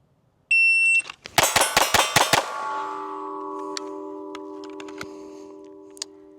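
Six rapid shots from a SIG Sauer P322 .22 pistol follow a shot timer's high electronic beep, the reports close together in a quick string and the ringing decaying into quiet afterward.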